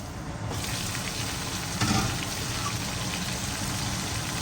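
Fish fried in a pan with a steady, even sizzle that runs close and loud throughout, with a brief brighter crackle midway; no voices.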